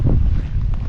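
Strong wind buffets the microphone outdoors on a farm, a loud, continuous low rumble and roar throughout the brief moment, with no voices.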